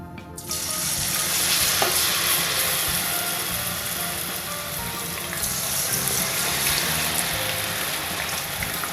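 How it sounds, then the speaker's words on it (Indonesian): Shrimp rempeyek, a crisp battered fritter, fries in hot oil with a steady, dense sizzle that starts abruptly and continues loudly throughout. "kita tinggal proses menggoreng ya. Tuh, saya udah manasin"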